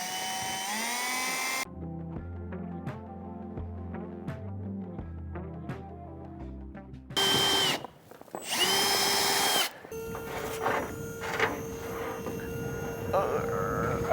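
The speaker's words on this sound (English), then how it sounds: "We should probably try to pre-drill it." A power drill whirs loudly in short bursts, pre-drilling wood for a post and beam barn, with tonal background music and people talking around it.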